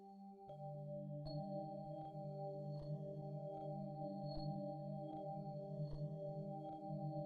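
Hip-hop type beat melody played on an Organic Bells preset, with sustained bell tones over a low drone and evenly spaced sharp hits keeping time, quiet and with no voices.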